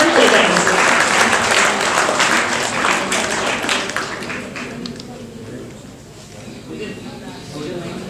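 Audience at an Ayurveda session applauds to welcome a speaker, a full burst of clapping that starts strong, gradually thins and fades, then swells faintly again at the close.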